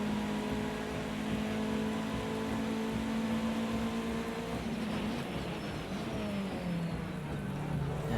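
Steady rain hiss in the Project CARS 2 racing video game, spread evenly under a droning race car engine whose pitch holds and then drops as the car slows near the end.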